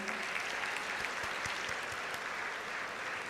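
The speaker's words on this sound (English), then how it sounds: "Another round of applause." Audience applause at a university convocation ceremony, a steady wash of many hands clapping, moderately distant and even in level throughout, with no talking over it.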